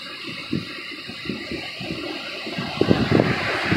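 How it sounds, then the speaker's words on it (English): Light rain patters down outdoors beside the sea, a soft steady hiss with scattered drops and a slight swell toward the end, with no talking. "here comes a little bit of raindrops."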